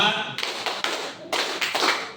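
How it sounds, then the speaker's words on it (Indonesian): Several people clap hands together in a counted rhythm, sharp close claps in quick groups with short pauses. A voice calls the counts over them. "Tepuk 1, tepuk 2, tepuk 3,"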